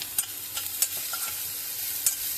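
Capsicum fries in a pan with turmeric for a potato sandwich filling, a soft, steady sizzle with a few light spoon taps and scrapes as it is stirred.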